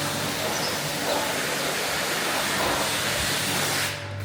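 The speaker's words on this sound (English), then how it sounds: "And that steamy, good old steam clean." A steam cleaner sprays a cattle crush, giving a steady, loud, broadband hiss that runs unbroken for about four seconds and drops off at the very end.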